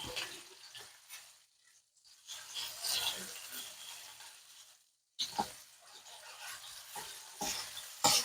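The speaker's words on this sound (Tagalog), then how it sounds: "halu-haluin lang po natin ganyan" Monggo is stirred in a cooking pan, a steady scraping swish over a soft sizzle that runs in two long passes with a short pause between them, close and fairly loud.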